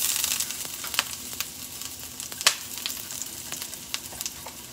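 Ginger sizzles as it drops into hot oil in a pan for a mushroom curry, a steady bright frying hiss with small crackles and pops throughout.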